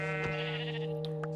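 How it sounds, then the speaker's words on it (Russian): A sheep bleats once inside the Minecraft video game, a short synthetic baa heard up close over a steady hum from the game, with no talking. "Овца."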